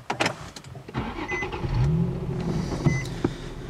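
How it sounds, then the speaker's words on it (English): A 2007 Infiniti G35S with a V6 and six-speed manual fires up by push button: a short starter whir, then the engine catches and settles into a low idle, heard from close by after a few clicks. "You can see the V6 makes a pretty nice sound even with an initial startup"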